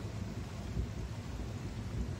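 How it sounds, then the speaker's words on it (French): A low, continuous rumble of thunder rolls through a summer thunderstorm, fairly distant and muffled, with rain hissing steadily underneath. "enfin le tonnerre plutôt."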